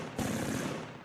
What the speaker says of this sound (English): machine guns shoot up trucks just fine